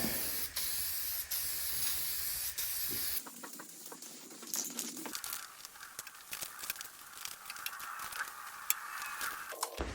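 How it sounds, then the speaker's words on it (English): Spray cleaner and degreaser hisses in sustained bursts onto a John Deere L130 lawn tractor part, close and steady, followed by quieter hissing spurts and faint handling noises. "I'm going to use some solid cleaner, degrease it. I'll give it a little wet coat here."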